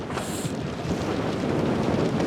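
Wind and waves batter a 21ft sailboat racing around an island, a dense, loud, continuous roar of gusting wind and rushing water close to the microphone, with no talk.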